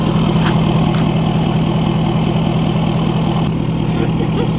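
A truck's engine idles after its exhaust fell off and lies on the axle, a loud, steady, close rumble with a rough pulsing throb throughout.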